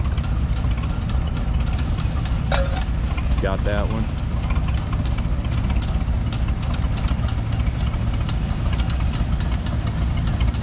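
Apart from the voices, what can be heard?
tractor engine idling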